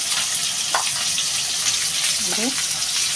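Sliced bitter gourd frying in hot oil, a loud, steady hiss and crackle that carries on throughout, with a faint voice once in the background.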